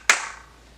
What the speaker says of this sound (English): Then on the 8 you're going to clap twice.